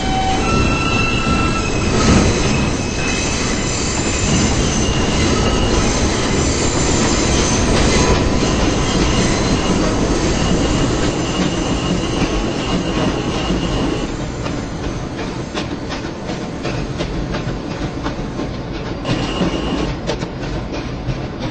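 An R160 subway train running as a Queensbound M local on the Myrtle Avenue line in Roblox rumbles loudly and continuously, with wheel clatter and squealing, and no voices.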